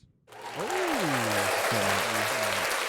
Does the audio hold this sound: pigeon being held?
no